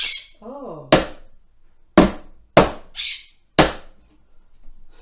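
Hammer blows on a DIY step stool made from trash, four or five sharp, separate strikes spaced about a second apart, with brief voiced sounds in between.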